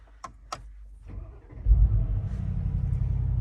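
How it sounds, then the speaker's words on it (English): A couple of sharp clicks, then a 2021 Mercedes-AMG's V8 engine cranks and catches, settling into a deep, steady rumbling idle close by. "Now if we start up the car and hear the V8"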